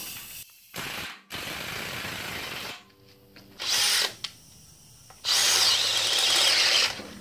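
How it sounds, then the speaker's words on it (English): A power drill with a 9/16 bit whirs in several bursts of varying length while opening holes during a 1966 Ford Bronco rear suspension install, close and loud, with short gaps between runs. "I used a 9/16 drill bit and just kind of open these holes up a little bit"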